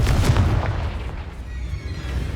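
A Confringo blasting spell explodes in the Hogwarts Legacy video game, a loud booming burst with a deep rumbling tail that fills the whole clip, heard alone.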